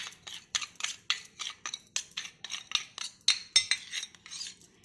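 A spoon stirs a face pack of yogurt and sugar in a small bowl, scraping and clinking against the sides in quick, steady strokes about three per second, close and fairly quiet with no talking.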